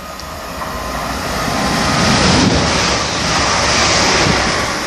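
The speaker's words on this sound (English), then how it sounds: "Now passing through is a London Midland Class 350 bound for Liverpool Lime Street, picking up speed very slowly" A London Midland Class 350 electric train passes through Acton Bridge station bound for Liverpool Lime Street, picking up speed slowly: a close, continuous rumbling roar that swells and holds as the carriages go by.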